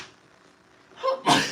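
A single close, sharp sneeze with a brief breathy build-up, bursting out after a quiet stretch of room tone.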